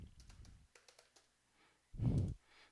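Scattered light keystrokes on a computer keyboard while entering router commands, soft and close, broken by a louder low burst of handling noise near the end.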